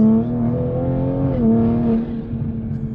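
Toyota A90 Supra fitted with a catless VRSF downpipe, its engine holding a loud, steady drone with strong low harmonics that dips briefly and recovers, then settles into a rougher idle.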